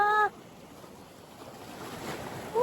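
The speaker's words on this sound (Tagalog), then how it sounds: "Ang lakas na tubig." Strong rushing water and waves wash around a boat off an island, a steady broadband roar at moderate level, with brief tonal sounds at the very start and end.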